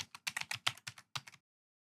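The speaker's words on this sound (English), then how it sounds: "I'll type in my super secret password" Password typed on a computer keyboard: about a dozen quick, close key clicks in an uneven burst, then silence.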